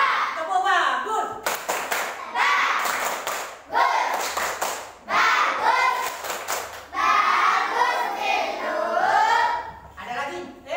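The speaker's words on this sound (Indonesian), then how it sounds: "Tepuk bagus." A primary school class in Indonesia claps the rhythmic 'tepuk bagus' pattern, a few sharp bursts of hand claps mixed with children's voices and a teacher speaking loudly over and between them.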